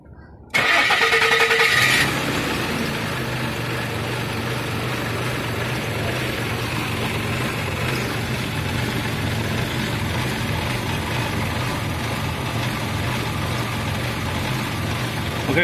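A 2006 Nissan with a disconnected oxygen sensor cranks briefly and catches, then settles into a steady, close idle that runs on without a break.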